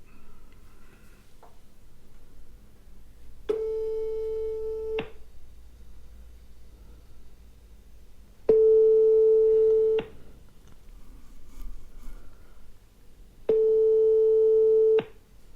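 A telephone ringback tone sounds while a cold call is being placed: three long steady tones, each about one and a half seconds, spaced about five seconds apart over low background hiss.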